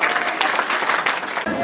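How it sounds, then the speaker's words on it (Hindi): Loud, close applause from an audience welcoming an acharya at a sacred thread (upanayan) ceremony, a brief burst of dense clapping with a sudden dip near the end. "जोरदार तालियों से अभिनंदन"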